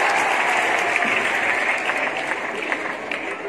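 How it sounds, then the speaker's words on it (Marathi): Audience applause at a group quiz-style results announcement, a dense steady clapping from a crowd that holds evenly throughout and fades slightly toward the end, fairly loud and close. "त्यांच्यासाठी टाळ्या होत्या."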